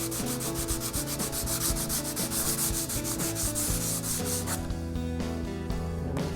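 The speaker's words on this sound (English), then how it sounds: "I'll take a little bit of degreaser and some worn out sandpaper and just really lightly hit that area just to take those burrs back down" Worn sandpaper rubbed lightly over a steel welding table to knock down burrs, a steady rhythmic scraping of quick close strokes with no talk.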